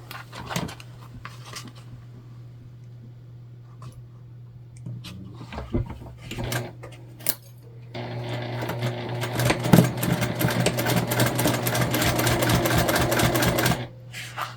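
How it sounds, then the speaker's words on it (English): A sewing machine stitches the seam of an Olivia Bag, with a few short bursts and clicks first, then a loud, continuous rattling run for about six seconds before it stops. "we're just going to sew together the seam allowance given in the pattern"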